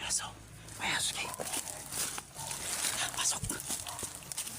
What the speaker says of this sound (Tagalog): May aso. May aso kayo.